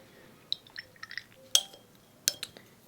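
A ceramic dish for mixing watercolour paint is handled on a table, with several faint, crisp clinks and taps spaced irregularly and two brighter knocks standing out.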